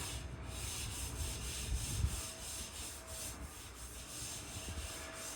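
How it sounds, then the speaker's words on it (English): Metal beams are sanded by hand, a continuous rough rubbing and scraping hiss that stays steady and close, with slight swells in the strokes and no talking. "he's sanding, and like you can see him there, he's sanding all this."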